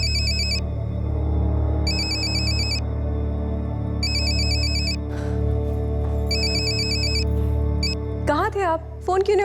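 An electronic phone ringtone trills in repeated bursts with short gaps, over a steady low hum, and a voice briefly speaks near the end.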